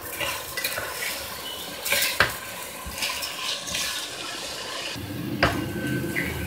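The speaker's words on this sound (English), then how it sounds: "Keep stirring it." Rice is stirred in a pan with onion and garlic for mushroom risotto, a soft sizzle under repeated scraping and clinking of a spoon against the metal, with sharper knocks at intervals, close and without talk.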